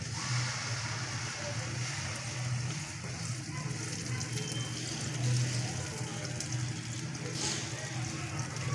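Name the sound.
water added to frying spice paste for egg masala curry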